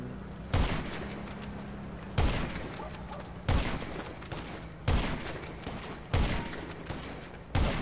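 Gunfire in GTA Online's Cayo Perico heist: sharp, loud shots ring out at a steady pace, about six evenly spaced blasts, each with a short decaying tail over constant background noise.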